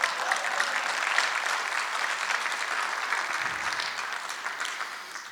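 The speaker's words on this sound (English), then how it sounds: "I love it when you clap for the oaks" An audience claps in sustained applause, a dense even patter of many hands that holds steady and then slowly fades toward the end.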